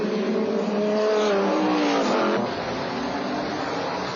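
A Viper GT race car at Homestead during a 1999 FIA GT round, its engine screaming loud and high, with pitch sweeping as it passes close by, then dropping to a steadier roar.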